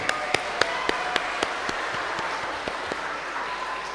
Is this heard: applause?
yes